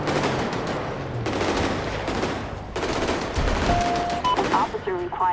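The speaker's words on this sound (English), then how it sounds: "Oh, we hear the shots." Gunfire erupts in a GTA 5 LSPDFR mod military patrol scene, several bursts of shots cracking over a steady background din, with a siren-like tone rising near the end.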